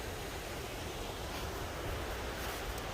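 Fresh natural spring waterfall pouring steadily outdoors, a dense continuous rush of flowing water that holds even and full for the whole stretch, fairly loud and close with no voices.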